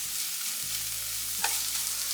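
Garlic sizzles steadily in hot oil in a pan while being stirred, a continuous close frying hiss with a brief scrape partway through, no voices, while preparing paneer pepper masala.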